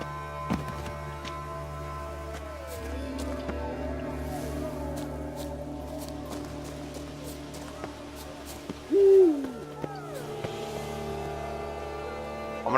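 An owl hoots in the Witcher 3: Blood and Wine game world, a low hooting call around the middle of the clip over steady game ambience and music, with faint talk nearby.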